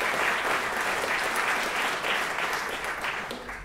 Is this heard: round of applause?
yes